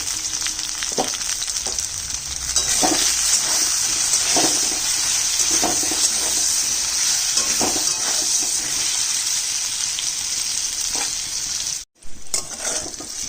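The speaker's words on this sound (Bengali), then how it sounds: "কচুটা ভেজে নিচ্ছি একটু নুন দিলাম আর একটু হলুদ দিয়ে ভাজবো" Pieces of taro frying in hot oil seasoned with salt and turmeric, a loud constant sizzle close by with repeated stirring scrapes and light utensil knocks, broken by a brief cut near the end.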